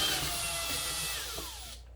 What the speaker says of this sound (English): That's how you do a clean cut, so you drill both sides.